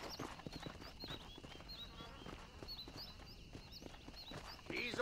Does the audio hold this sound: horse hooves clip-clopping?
yes